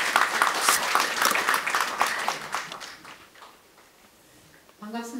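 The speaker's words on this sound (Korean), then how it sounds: "여러분 큰 박수로 환영해 주시면 고맙겠습니다" Audience applause at a Korean award and scholarship ceremony greets a National Assembly member coming up to speak: dense clapping for about three seconds, thinning and fading out, before a voice begins at the end.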